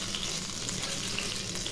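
Pumpkin flower fritters and green chilies fry in hot oil, a continuous dense sizzle that holds steady throughout, close and even.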